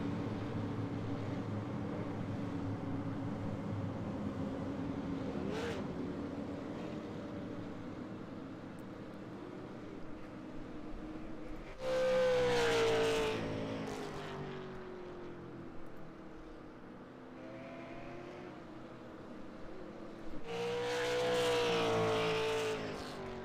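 ASRC Super Late Model Touring Series race cars at New Smyrna Speedway roar past the listener twice in loud, rising-and-falling engine bursts, with quieter, distant engine drone from the rest of the field in between.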